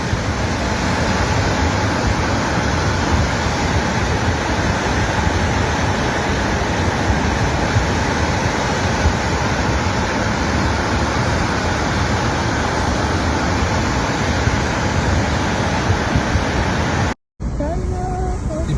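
A powerful mudflow torrent floods a village in Qamashi district, a loud, unbroken rushing roar of fast water that stays constant throughout with only a brief dropout near the end.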